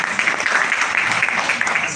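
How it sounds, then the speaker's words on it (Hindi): A seminar audience bursts into dense, steady clapping that fills the room for a couple of seconds. "जिनका फोन बज रहा उनके लिए एक बार जोरदार ताली"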